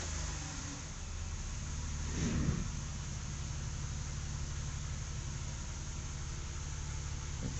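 A car engine idles steadily while the transmission is shifted into reverse, a low continuous hum with a brief swell near the start, then even running at close range.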